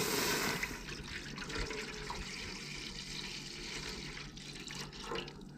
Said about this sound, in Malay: Kita masukkan 1 liter susu tadi.